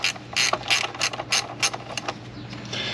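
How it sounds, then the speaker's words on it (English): A ratcheting wrench turns screws on a Jeep JL during an auxiliary battery removal, giving a steady series of quick, crisp clicking bursts close by at a regular rhythm. "Even a ratcheting one."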